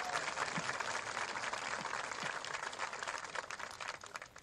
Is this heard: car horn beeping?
no